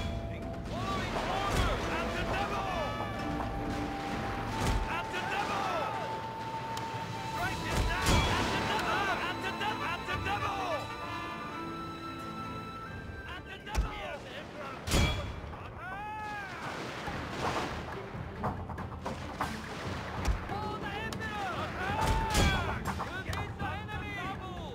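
Infantry gunfire crackles in a Total War Shogun 2: Fall of the Samurai battle, with scattered shots and booming volleys over a busy battlefield mix, and someone talks throughout.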